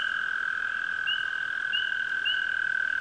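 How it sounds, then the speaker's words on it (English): The long, unbroken whirring trill of a northern toad runs loud and steady, with a few scattered spring peeper peeps rising over it from nearby in an outdoor wetland. "And the constant whirring, like a alarm or something almost, that's your northern toad."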